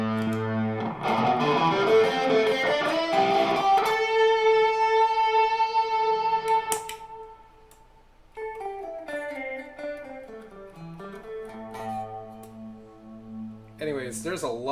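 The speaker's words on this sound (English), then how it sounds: "So that's the Caroline Guitar Company Somersault Lo-Fi Modulator" An electric guitar played through a Caroline Guitar Company Somersault Lo-Fi Modulator pedal rings out in sustained, wobbling chords and notes, with pitch-bending, warbly modulation and a brief quieter gap before a swooping passage.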